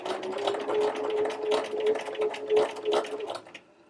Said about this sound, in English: lower the presser foot and we can stitch that narrow hemline